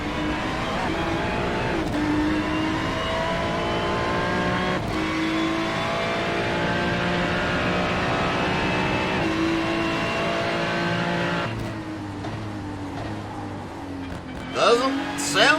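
A GT3 Ferrari race car at full throttle on the Circuit de Ledenon, heard onboard as a loud, steady engine roar climbing through gears with brief shift breaks, a commentator talking over it.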